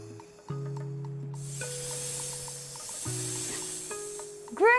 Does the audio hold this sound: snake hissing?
yes